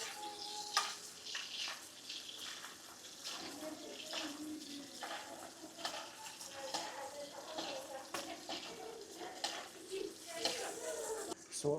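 Fish frying in oil in a restaurant kitchen pan, a low, steady sizzle with scattered crackles, heard under someone talking throughout.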